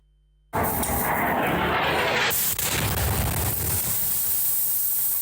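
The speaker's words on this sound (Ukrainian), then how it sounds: "Серія потужних вибухів вранці у Дніпрі." A sudden loud roar erupts after a brief silence, then a sustained, rumbling blast-like noise continues with heavy broadband energy, with a slight dip midway: a morning series of powerful explosions from a drone and missile attack on residential areas of Dnipro.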